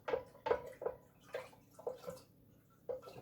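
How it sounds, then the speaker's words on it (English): A batch of cherry-limeade mead made with cherries, limes and honey is stirred in its vessel, about seven soft rhythmic swishes and sloshes of liquid, quiet and close, with no talking. "Okay, so stir it up, stir it up, stir it up."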